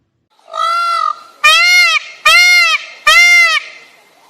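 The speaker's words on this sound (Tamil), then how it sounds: "மயில் எழுப்புற ஒலிய நாம அகவரதுன்னு சொல்லுவோம்" A peacock calling four times in quick succession, loud and close, each harsh, nasal wail separated by short gaps against an otherwise silent background.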